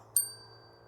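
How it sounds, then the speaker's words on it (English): A small bell hanging on a grave in a graveyard rings once when tapped, giving a single bright, clear ting that fades quickly over a faint steady hum, with no voices. "I've got a bell on the grave as well."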